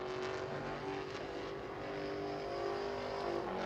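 A Pro Late Model race car engine drones steadily at a distance at New Smyrna during qualifying, a continuous hum that swells slightly toward the end.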